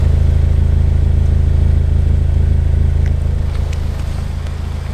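A thermal orange Honda NSX idles close by with a deep, steady, throbbing engine note that eases slightly in loudness near the end, and no one talks over it.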